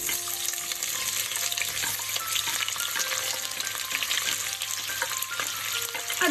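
Two medium chopped onions fry in oil in a pan for paneer peas masala, a dense, continuous hiss and crackle with faint stirring scrapes, close and steady with no voices.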